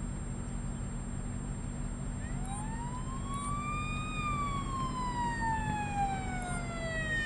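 A video game ambulance siren wails, sweeping up and then slowly down over a steady engine rumble, with a few faint high clicks.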